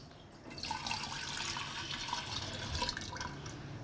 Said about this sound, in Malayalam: ഇതാ ഇത് ഞാനിങ്ങനെ ഒഴിക്കാൻ പോവാണേ